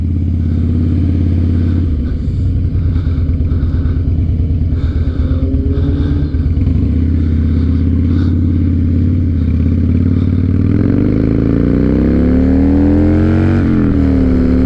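A 2007 Harley Davidson Night Train motorcycle engine runs close and loud with a lumpy, pulsing idle, then revs up and climbs in pitch near the end.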